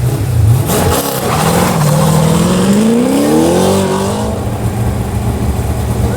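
A 1972 Corvette launches in an autocross run, its engine loud and close, revving and climbing in pitch as it pulls away, then settling into a sustained roar.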